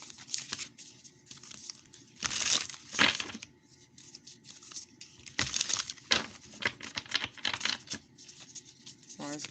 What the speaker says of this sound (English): I need to shuffle those more.